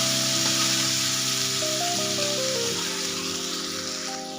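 Finely chopped tomato and turmeric sauté in a pan for green moong dal, giving a continuous, even sizzle beneath background music that fades slightly toward the end.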